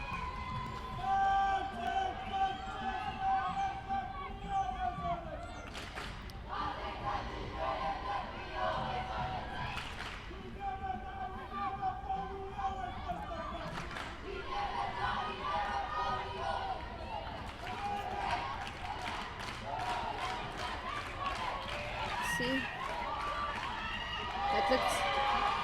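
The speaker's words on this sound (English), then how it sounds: "You can hear the crowd now getting behind Gauteng, trying to push on their defenders" A stadium crowd at a live sports match roars steadily behind Gauteng as play builds, with surging swells and bursts of cheering under continuous commentary.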